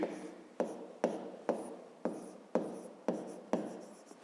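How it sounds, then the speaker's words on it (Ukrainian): Pen taps and scratches on paper as points are marked down, about eight short evenly spaced strokes, close and faint, with no voices. "Записуємо тоді точки."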